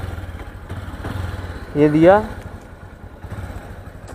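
A motorcycle engine sits at a low, steady idle under a voice, with a brief louder burst in the middle as it starts or revs before settling back to a rhythmic putter.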